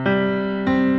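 Piano chords struck twice in quick succession, the first ringing on before a second attack shifts the harmony, clear and close with no talking.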